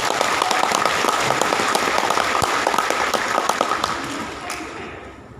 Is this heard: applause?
yes